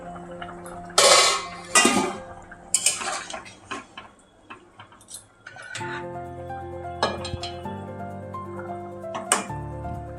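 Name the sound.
lid of a cooking pot being opened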